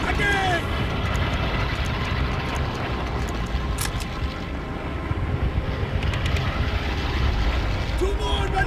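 Bomber aircraft engines passing overhead in the Wii version of Call of Duty World at War: a loud, steady, heavy drone that fills the whole stretch with no letup.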